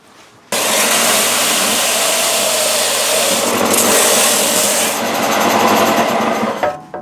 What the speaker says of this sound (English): The rest of this around the grill area, I'm going to take care of with a Dremel.